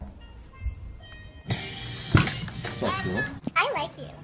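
A cat meows a few times, rising and falling, close by, while people talk over it.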